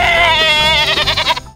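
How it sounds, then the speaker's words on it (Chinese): A lamb gives one loud, close, wavering bleat lasting about a second and a half, standing alone. "小羊就在上面紧紧跟着，还一直咩咩的叫着加油"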